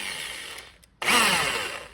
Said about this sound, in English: That was the drill bit sliding in the drill.